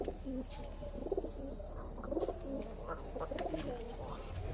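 Giribaz pigeons coo in a loft, with soft repeated low calls from several birds, close by, over a steady background hiss.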